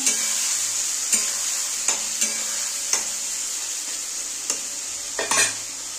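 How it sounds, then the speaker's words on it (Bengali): Ground spices, including cumin powder, sizzle steadily in a hot pan for a Bengali katla fish curry while a utensil scrapes and stirs, producing sharp periodic clicks against the constant frying hiss. "মশলাটা না আমার কষানো হয়ে গেছে"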